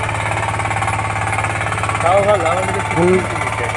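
Honda machine engine chugging steadily in a field being ploughed, a loud rhythmic pounding drone throughout, with a voice talking briefly over it near the end.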